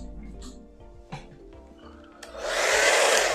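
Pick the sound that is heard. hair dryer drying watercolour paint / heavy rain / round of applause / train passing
hair dryer drying watercolour paint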